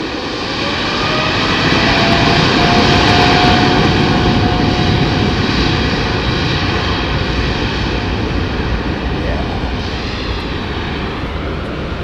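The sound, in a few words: aircraft jet engines spooling up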